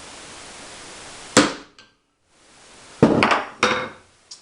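A hammer strikes a punch against a metal bracket held flat on a 3/4 inch board, a few sharp close knocks: one single hit, then a quick cluster of two or three blows.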